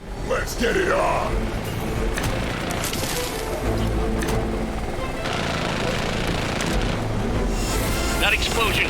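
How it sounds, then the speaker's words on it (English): Explosions and battle noise in the video game Marvel's Midnight Suns, heavy booms and rumbling impacts layered with clattering effects and voices talking over the action. "That explosion just shorted out half our systems"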